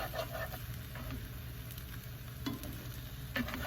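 Breakfast food sizzles and fries in a pan with a steady, close crackle, broken by a few soft scraping and stirring touches, and no voices.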